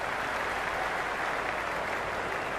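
A stadium crowd applauds during a Pakistan vs USA match in Cricket 26, a steady broad wash of distant clapping and cheering filling the whole moment with no commentary over it.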